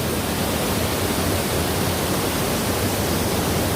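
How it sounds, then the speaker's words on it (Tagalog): The Chichibu Kegon waterfall in Japan roars as a dense, unbroken rush of falling water, loud and close and steady throughout, with no voices. "Tinatawag nilang Chichibu Kegon Waterfalls."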